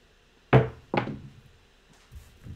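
Dice thrown onto a craps table land with two sharp knocking thuds in quick succession, then softer bumps as they settle, close and otherwise quiet.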